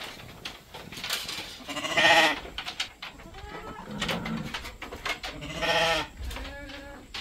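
Goats and sheep on a goat farm bleat in several loud, wavering calls close by, with bursts around the middle and near the end separated by quieter shuffling and rustling.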